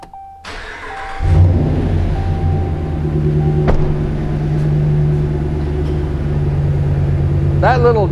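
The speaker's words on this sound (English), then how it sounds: "let me go ahead and start the truck" A truck engine cranks over, catches with a loud burst near the mic, then settles into a steady idle that runs on with a brief rev and a faint whine near the end, with no talking over it.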